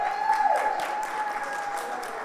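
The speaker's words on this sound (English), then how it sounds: "let's give her a great round of applause" Applause from a crowd at a 75th anniversary community event honoring the logo designer, a steady, dense patter of clapping at moderate distance with a faint tonal hum underneath.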